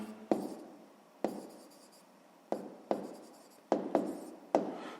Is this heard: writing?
yes